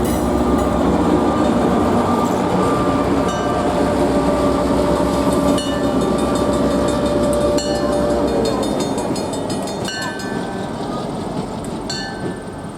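A Belfast & Moosehead Lake Railroad train rolls past close by, a steady loud rumble of wheels and cars with some metallic clatter and squeal, easing slightly toward the end.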